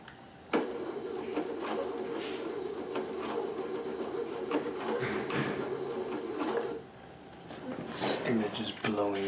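A sewing machine stitches sashiko-style lines on custom placemats at a short stitch length, a steady mechanical whirring run that stops near the end, followed by brief clatter and rapid ticking.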